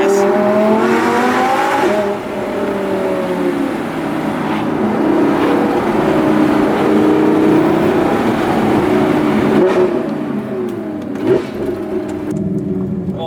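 An Audi R8 V10 plus drives and accelerates. Its engine drone rises in pitch through the gears, with a strong climb early on and another surge later, loud and steady throughout.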